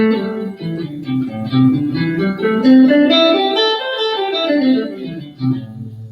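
A guitar plays a minor pentatonic scale line, notes climbing and then descending, with a slightly effected, sustained tone and no talking.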